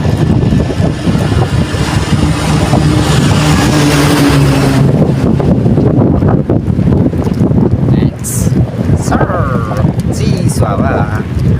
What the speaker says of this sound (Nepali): चिसो हावा